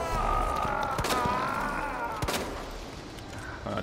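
Gunfire in Resident Evil 2 Remake, several sharp shots cracking at irregular intervals over a droning game background and music, fairly close and loud against the steady bed.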